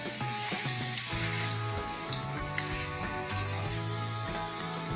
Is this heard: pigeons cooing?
no